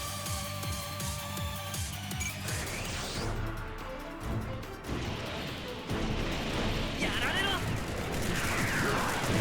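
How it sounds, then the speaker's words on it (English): Rapid beam rifle shots and crashing impacts from SD Gundam G Generation Cross Rays battle, loud and dense over game music, with bursts of overlapping blasts and a short spoken line in the middle. "Counter with the beam rifle."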